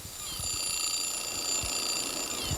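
A timer alarm rings steadily for the whole stretch, a sustained high electronic tone with bright overtones and no pauses, moderately loud and close, with low background rumble beneath.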